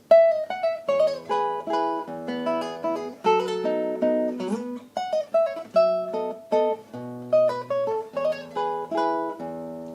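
Solo classical guitar plays a section of Tárrega's Gran Vals, the melody behind the Nokia tune, in clear plucked notes and chords with a lilting waltz rhythm, close and unaccompanied.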